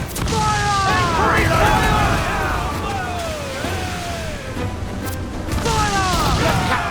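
Ship cannons fire during a naval battle in Assassin's Creed 4 Black Flag, a run of deep booms and crashes over a roaring sea-battle din, with crew voices shouting throughout.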